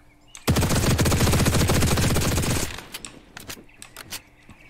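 A long, loud automatic burst of gunfire from the shooter game The Cycle rattles for about two seconds, followed by several shorter single shots and clicks.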